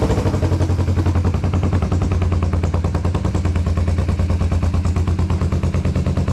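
A carbureted engine pops and spits at startup in a loud, rapid, machine-gun-like stream of bursts that runs unbroken from start to finish.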